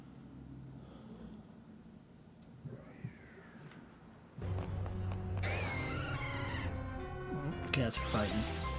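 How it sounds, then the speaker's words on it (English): Cats fight with rising yowls, caterwauling and harsh meows, starting as faint wails and swelling into loud overlapping screeches in the second half. "Cats are fighting."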